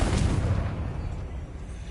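A Confringo blast spell exploding in Hogwarts Legacy, heard as a loud, deep boom at the start that rumbles and fades over the following second or so.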